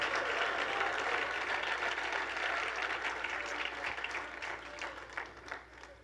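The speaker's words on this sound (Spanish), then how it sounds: "Alguien de veras le da un aplauso a Dios" A church congregation applauds during a sermon, a dense, steady roar of many hands that holds loud, then thins and trails off in scattered claps near the end.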